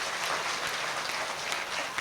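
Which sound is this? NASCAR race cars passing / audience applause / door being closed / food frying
audience applause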